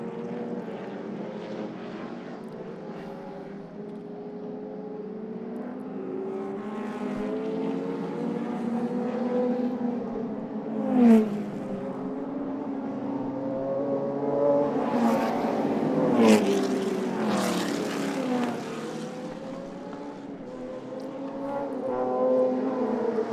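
Historic race cars at a historic motor racing festival passing one after another, engines rising and fading at middle distance with brief louder swells as each goes by.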